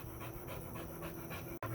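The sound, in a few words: dogs panting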